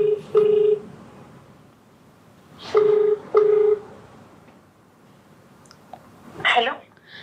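Telephone keypad tones dial a call: short beeps in two quick pairs separated by a pause, clear and close, followed by a brief rustling burst near the end.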